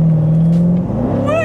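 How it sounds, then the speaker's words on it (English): A 2016 Chevrolet Corvette Stingray's exhaust, routed behind the seats, revs loudly close up, with a steady drone sliding into a rising pitch. "when you dump your exhaust underneath the, right behind your seats, it is quite loud in the passenger area"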